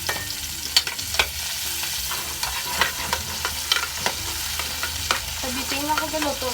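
Garlic, onion and ginger being sautéed in a pan over charcoal for Filipino pork monggo with vegetables: a continuous frying sizzle broken by repeated clacks and scrapes of a spoon stirring against the pan, close and fairly loud.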